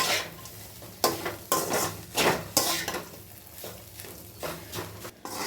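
Leftover chapati and egg are stir-fried in a pan over a soft sizzle, with repeated sharp scrapes and clinks of a spatula against the metal at an irregular rhythm, heard close by.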